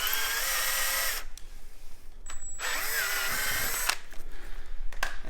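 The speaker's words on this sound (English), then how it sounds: "drill your other hole" A power drill runs in two close, loud bursts with a brief pause between, its motor whine shifting pitch as it bites, drilling a hole during a street-legal kit install on a Kawasaki KLX110 motorcycle.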